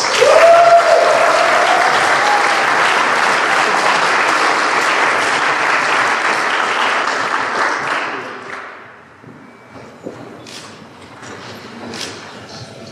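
An awards-ceremony audience at a hall of fame event bursts into loud, sustained applause for about eight seconds, then it fades to scattered claps, shuffling and room noise.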